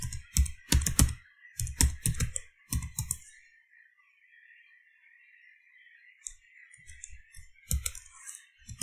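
Typing on a computer keyboard at a Linux terminal on CentOS 7: a dense burst of rapid keystrokes, then a pause, then a few more scattered taps, close and clear with no talking.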